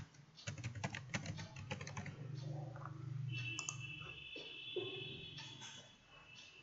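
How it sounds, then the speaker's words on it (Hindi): A name and email address being typed on a computer keyboard, with bursts of rapid, close key clicks, then sparser taps and pauses against a quiet room. "यहाँ पर अपना नाम और ईमेल एड्रेस डाल करके हम लोग अकाउंट क्रिएट कर सकते हैं।"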